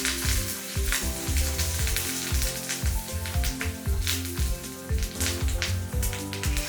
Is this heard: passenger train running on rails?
no